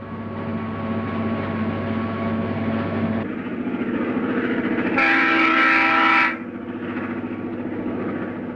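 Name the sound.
tea and sugar train moving on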